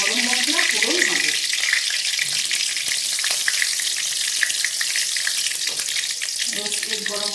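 Bay leaf and whole garam masala spices fry in hot oil for a coriander chicken, giving a steady, close, loud sizzle throughout with brief stirring clatters; a voice speaks over it at the start and end.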